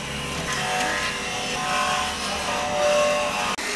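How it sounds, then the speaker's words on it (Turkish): Steady, dense abrasive scraping of sandpaper against a metal surface on a Ford Connect 1.8 engine during a timing belt job, continuous and fairly loud for a few seconds, with a brief break near the end. "Yüzeyimizi zımparalıyoruz."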